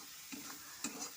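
A spoon scrapes and turns cauliflower curry in a pan just after the lid comes off, two or three short soft stirring strokes over a faint sizzle, close but quiet.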